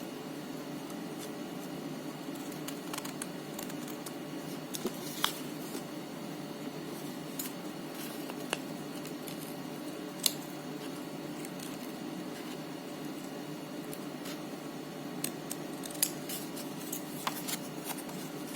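Scissors snip around the corners of a handmade book in a run of faint, scattered clicks and crisp cuts over a low steady hum.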